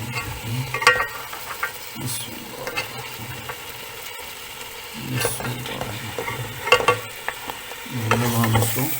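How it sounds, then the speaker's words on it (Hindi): Mutton trotters (paya) frying in masala in a pot, steady close sizzling broken by repeated scraping and clanking stirs of a spoon against the metal, loud and uneven with no talking. "मसाले के अंदर सारे पाए को अच्छी तरह भून लेंगे इंशाल्लाह।"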